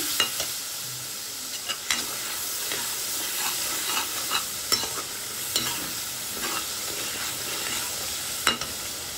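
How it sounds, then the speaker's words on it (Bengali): Tomato, ginger and cumin paste sautéing in a pan for Kashmiri stuffed aloo dum, a continuous bright sizzle with frequent scraping stirs at an uneven rhythm, close and alone without speech. "পেস্টটা দিয়ে ভালোভাবে কষিয়ে নিচ্ছি।"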